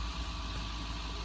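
A New Holland 5060 tractor engine idling on a farm in Texas, a steady low rumble that holds even and continuous throughout, with no talking.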